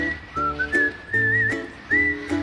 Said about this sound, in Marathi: कोकिळेचा आवाज आहे